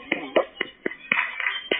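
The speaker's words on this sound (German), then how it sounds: "Ein Applaus an dich." A handful of sharp, separate hand claps, close and fairly loud, spaced irregularly like one person clapping slowly.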